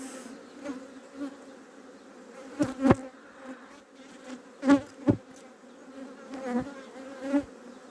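Honeybees buzz around an open hive during a super being added, a steady hum close by with individual bees swelling loudly past in several brief passes.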